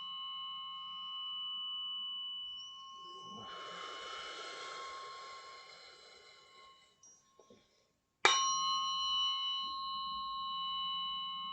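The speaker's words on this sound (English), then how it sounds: "You can use a weighted fork and a crystal just to clean that sound up." A weighted tuning fork struck during a biofield tuning session sounds a sustained pure tone that hangs steadily, with a sharp second strike bringing a fresh bright ring near the end; faint soft noise surrounds it.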